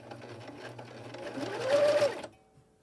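A sewing machine runs slowly, stitching elastic into the seam of an 18-inch doll nightgown, a steady close motor whir that speeds up and rises briefly before stopping abruptly.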